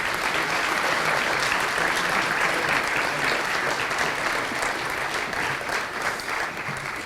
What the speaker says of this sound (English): a big round of applause for all of our Cobb County and City of